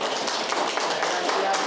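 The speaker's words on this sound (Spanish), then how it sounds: "Vamos a darle una cordial bienvenida con unos aplausos." A studio audience at a Peruvian television program claps to welcome an actor guest, a short burst of dense, lively applause heard up close.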